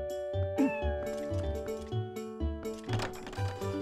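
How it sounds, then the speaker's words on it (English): Cats meowing inside the game The Legend of Zelda: Twilight Princess HD, several distinct meows rising over steady background game music throughout. "Wow, that cat's big. It's as big as a dog."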